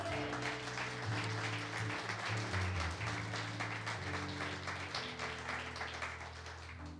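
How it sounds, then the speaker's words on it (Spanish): Church congregation clapping for God at an anniversary service, a soft, steady wash of applause beneath sustained low organ or keyboard chords that carry on throughout. "le dé un fuerte aplauso a nuestro Dios"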